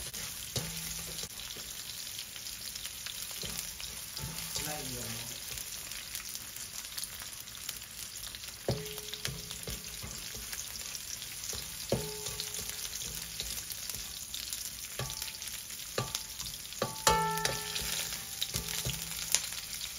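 Onions fry in a pan with a quiet, steady sizzle, punctuated by occasional scraping and clinking as they are stirred.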